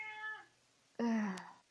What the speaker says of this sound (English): that is my cat in the background